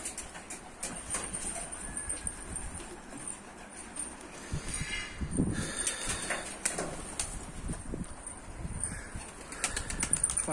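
Turkish pigeons take off, their wings flapping in repeated bursts of fluttering at close to middle distance over outdoor background noise.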